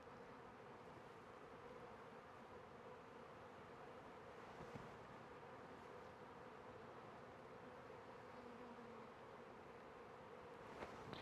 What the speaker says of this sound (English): There's a bunch of bees on the ground over here